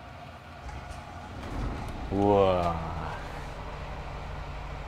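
A Scania K360iB bus engine starting from the driver's seat, with the engine mounted far at the rear: a muffled crank that rises into a low rumbling idle. It is moderately faint under ambient noise, and a voice exclaims briefly.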